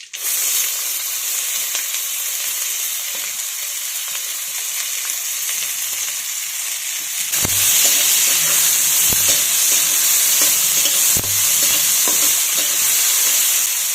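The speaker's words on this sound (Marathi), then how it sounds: "याच्यामध्ये आपण कढीपत्ता टाकून घेणार आहोत आणि बारीक चिरलेला कांदा।" Cumin, curry leaves and finely chopped onion fry in hot oil, a steady loud sizzle throughout that grows stronger partway as the onion goes in, with occasional stirring scrapes.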